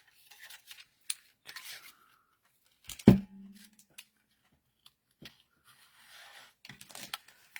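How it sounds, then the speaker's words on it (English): Scissors make a brief, sharp cut at an angle through a long banner strip, one loud snip standing out among faint rustling and handling noises. "Let's go ahead and slide this in and get our angle cut again."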